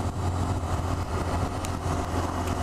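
A 2018 Honda Monkey's 125cc air-cooled single runs with a steady, faint low drone and no change in pitch.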